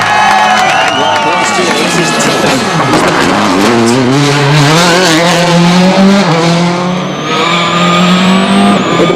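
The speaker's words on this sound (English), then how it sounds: "Reaching top speeds of up to 200 kilometers an hour through these sweeping tarmac roads." A Citroën rally car races flat out along sweeping tarmac roads at a WRC event in Spain, its engine rising and falling loudly through gear changes, with tyre squeal and a soft crowd in the background.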